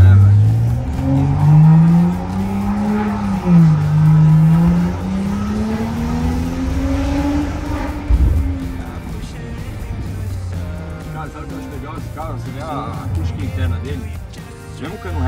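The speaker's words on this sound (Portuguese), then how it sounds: "Tivemos um cano reto gritando tudo no carro, não treme nada." A loud BMW engine roars and revs through a straight-pipe exhaust with a harsh, raw note, rising and falling in pitch while people talk over it.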